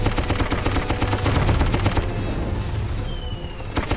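Rapid gunfire from a mounted gun in the Darkest of Days video game: a fast, continuous stream of loud shots for about two seconds, then thinner bursts over a background rumble, with a brief loud return at the end.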